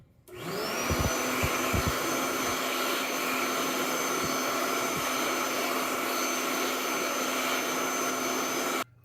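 A Slim Dry hand dryer in a Lowe's restroom starts up abruptly and runs as a steady, loud airy roar with a constant whine, a few clunks at the start, then shuts off after about eight seconds.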